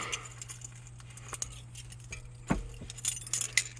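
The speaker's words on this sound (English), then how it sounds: "Here's my key for the truck." Truck keys jangle softly and intermittently at close range, with light metallic clinks against a low, steady background hum.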